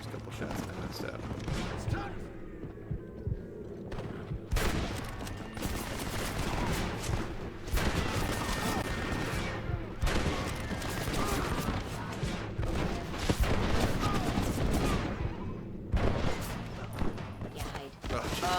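Gunfire in the Western video game Red Dead Redemption during the Blackwater chapter, a string of sharp shots and bursts spread across the span, with a person talking over the action.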